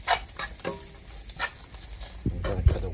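Chinese sausage and vegetables stir-fried in a pan: soft sizzling under repeated scrapes and stirs, with a few louder clanks of the utensil toward the end.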